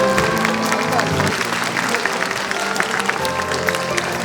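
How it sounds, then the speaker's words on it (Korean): Loud audience applause fills a hall at a social workers' conference in Daegu, dense and continuous clapping with a murmur of voices underneath and sustained tones running through it. "박수 부탁드립니다"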